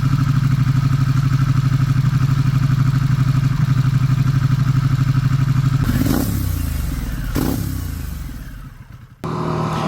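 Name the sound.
Yamaha WR250R motorcycle riding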